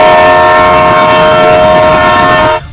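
A train approaching at speed, its loud sustained horn blaring almost continuously over the rumble of the cars before cutting off abruptly near the end.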